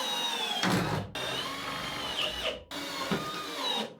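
Power drill driving wood screws into timber framing inside a camper van being fitted out, two bursts of whirring close by, each ending abruptly, with no talk.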